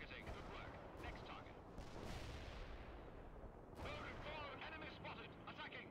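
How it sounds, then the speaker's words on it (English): Artillery fire in the real-time strategy game World in Conflict, with deep distant booms and rumbling blasts rolling under constant battlefield noise, a few sharper impacts standing out. "Man, that artillery recharges fast."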